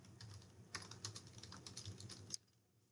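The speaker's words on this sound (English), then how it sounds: "Type in your note, hit enter," Faint, quick keyboard typing while entering a note on a computer, a short run of light clicks lasting about two seconds and ending in one firmer keystroke, then quiet.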